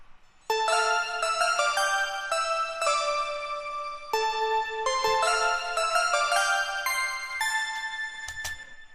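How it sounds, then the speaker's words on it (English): A bright synthesizer bell lead plays a ringing melodic phrase, notes chiming and overlapping, clear and alone. "A really epic bell,"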